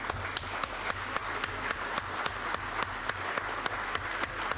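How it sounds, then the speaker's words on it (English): Enthusiastic applause from the floor of a Senate session, dense steady clapping from many hands in a large chamber, sustained throughout with sharper individual claps standing out. "Let's give an enthusiastic round of applause"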